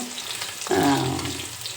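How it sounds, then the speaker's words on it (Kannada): Spices crackle and sizzle as they hit hot oil while tempering horse gram for a rasam-style sambar, a sudden loud burst that settles into steady frying hiss, with no talking. "ಈಗ ನಾನು ಇದು ಕಾಳು ಒಗ್ಗರಣೆ ಹಾಕ್ತಾಯಿದ್ದೀನಿ"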